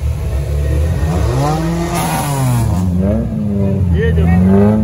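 A Niva off-road car races hard through a trophy sprint stage, its engine loud and near, revving up and down in repeated rising and falling sweeps as it drives fast.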